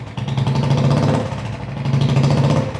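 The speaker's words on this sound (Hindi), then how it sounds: "साउंड सुनवाने जा रहा हूं सबसे पहले शॉर्ट पंजाब मोटा मुंह" Royal Enfield Bullet motorcycle fitted with a short Punjab fat-mouth silencer, a loud, close, thumping engine note with a pulsing low beat that swells, dips briefly and rises again.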